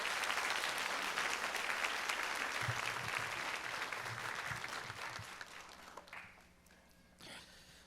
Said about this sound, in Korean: 우리 사랑과 축복의 박수로 환영하겠습니다